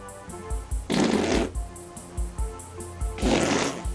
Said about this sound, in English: Including this fart belch combo set to a jaunty theme.